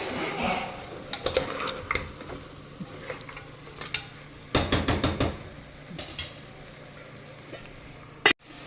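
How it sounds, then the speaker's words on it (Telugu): A spoon stirs tomatoes into mutton curry in a pressure cooker pot, scattered scrapes and clinks against metal with a cluster of sharp knocks midway and a loud final tap, over a faint simmering background. "ఇలా టమాటా మంచిగా బాయిల్ అయ్యాక ఒకసారి కలుపుకొని"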